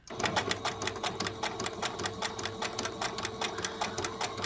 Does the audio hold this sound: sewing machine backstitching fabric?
yes